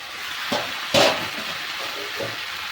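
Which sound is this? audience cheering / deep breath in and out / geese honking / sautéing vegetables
sautéing vegetables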